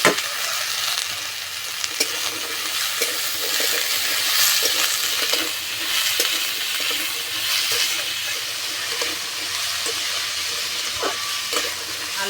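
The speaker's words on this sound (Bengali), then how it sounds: "আলু একটু সময় ধরে ভালো করে ভেজে নিয়েছি" Diced potatoes fry steadily in a pan for an aloo paratha filling, giving a continuous broad sizzle with occasional stirring scrapes and clicks throughout, and no voices.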